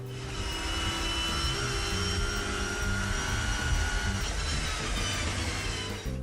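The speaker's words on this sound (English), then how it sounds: "an onboard sound clip here from a V6 Mondeo" A steady, loud engine drone from inside a V6 Ford Mondeo touring car, with a constant mechanical roar and gear whine holding throughout.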